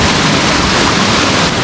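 Strong stream water rushing at a flooded fishpond outlet, a loud, steady broadband roar of flowing water that fills the whole clip without a break.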